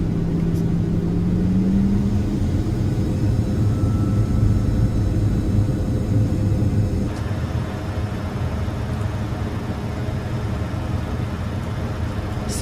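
A steady, loud roar of jet engines and rushing air fills the cabin of an iFly 737 MAX airliner on final approach with flaps at 10 in a flight simulator, landing at Westchester. The roar drops slightly and settles partway through.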